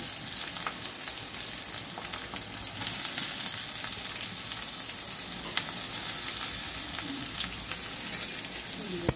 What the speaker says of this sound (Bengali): পেঁয়াজ দিচ্ছি, ভেজে করবো